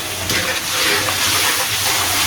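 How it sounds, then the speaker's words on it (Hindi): Water splashes and pours into a pot of cooking dhaba-style chana dal, a steady gushing rush at close range with no talk. "थोड़ा सा हम पानी का छटा लगाएंगे इसके अंदर।"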